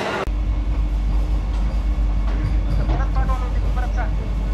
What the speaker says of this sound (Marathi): प्लॅटफॉर्म नंबर 1 वरती आपली ट्रेन आलेली.